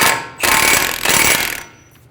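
A ratchet snugs down a bolt on the front hub of a 2003–2008 Honda Pilot during a brake dust shield replacement, giving a loud, close burst of rapid clicking over about a second and a half before trailing off.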